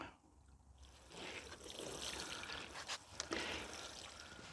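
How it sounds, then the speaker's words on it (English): Water pours and trickles from a can onto freshly potted parsley in an allotment, starting quietly and swelling into a steady, close splashing stream with small spatters near the end. "just to give them a little water now"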